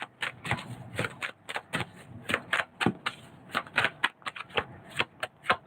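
A deck of tarot cards is shuffled by hand close up, giving a quick run of crisp riffling bursts in a steady, repeating rhythm with no talking.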